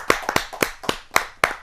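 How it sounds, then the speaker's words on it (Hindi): Hand clapping from the audience at a Hindi poetry gathering, about six sharp, separate claps spaced unevenly and heard up close rather than as a full crowd. "जहाँ जोरदार ताली के साथ हम उनका"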